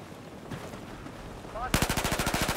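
Automatic gunfire in the Battlefield 4 game: after a quieter stretch of game ambience, a fast, steady, rattling burst of shots starts close and loud and runs to the end.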